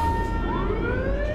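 A police siren wails in a truck-driving video game, its rising and falling tone sweeping steadily over a low engine rumble, close and loud for a brief stretch.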